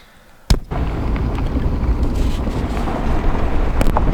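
Wind gusts buffet the microphone at a lakeside campground, starting abruptly after half a second and continuing as a steady, loud rumbling roar with no speech.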